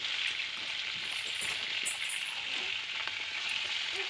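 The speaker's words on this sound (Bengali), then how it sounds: "ঝপঝপ করে মাছগুলো এখন ভেজে নিই" Snakehead fish frying in hot oil in a home kitchen, a steady close hiss and crackle of sizzling with small pops throughout, no talk.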